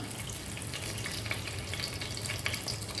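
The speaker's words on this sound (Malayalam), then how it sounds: "അപ്പോൾ ഓയിൽ നന്നായിട്ട് ചൂടായിട്ട് വന്നിട്ടുണ്ട്. നമുക്കതിലേക്ക് സ്പൈസസ് ചേർത്ത് കൊടുക്കാം." Whole spices fry in hot sunflower oil, giving a steady close sizzle with soft crackles and no talk over it.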